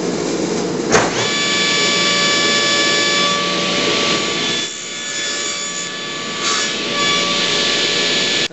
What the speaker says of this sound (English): I've got the blade set to the right height already, so we'll just go ahead and cut these off now